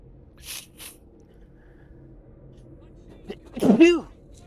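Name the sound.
sneeze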